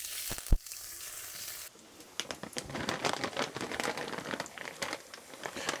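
Peppers hit a hot frying pan: a short rustle and clatter, then a loud, close, busy sizzle full of rapid crackles and spits that keeps going.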